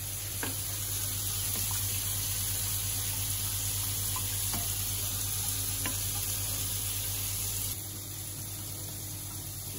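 White sauce made with oat milk stirred continuously in a pan on the heat, a steady bubbling hiss with faint spoon scrapes throughout, close and even, with no voices.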